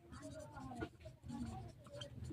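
A pen scratches steadily across paper while a class 5 math word problem is worked out by hand, with soft close strokes and brief pauses and quiet speech faintly underneath.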